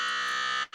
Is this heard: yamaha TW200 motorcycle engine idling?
no